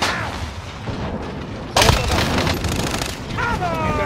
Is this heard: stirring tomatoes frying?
no